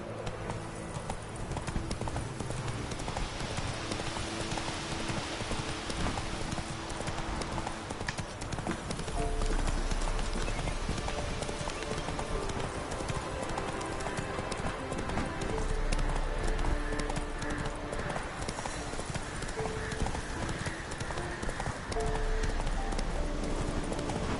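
Horse hooves pound in a steady gallop in the video game Witcher 3, a dense continuous clip-clop that runs without a break for over twenty seconds under a busy game soundscape.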